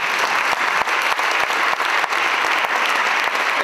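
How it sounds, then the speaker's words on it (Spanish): A crowd at a music school closing ceremony in Cortegana applauds Miguel, loud sustained clapping from many hands filling the room, even and continuous. "Fuerte aplauso para Miguel"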